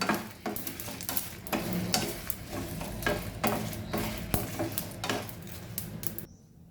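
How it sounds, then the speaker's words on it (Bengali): Cumin seeds crackling in a hot frying pan with the gas turned off, heard as continuous close sizzling and popping with stirring scrapes, ending abruptly in silence. "জিরেটা ফুটফুট করে ফুটছে।"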